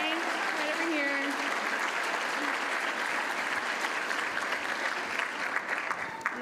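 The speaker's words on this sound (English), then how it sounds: "let's give one more big round of applause for our judges" Sustained, dense applause from a large audience at a startup demo day event, steady and fairly close throughout, with a voice faintly audible underneath the clapping.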